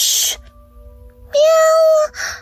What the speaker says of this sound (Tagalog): Baka pusa lang yon